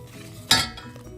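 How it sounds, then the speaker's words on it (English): Metal spoon clanks against a pot while stirring Parmesan cheese into homemade Alfredo sauce, one sharp close clink followed by quieter scraping. "and stir."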